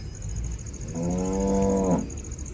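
A bull lets out one long, loud, deep low that swells and then cuts off, heard alone over a steady background hum.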